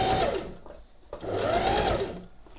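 A sewing machine stitches elastic lace trim, with a steady mechanical whir that runs in two strong stretches and a brief slowdown between them, loud and close.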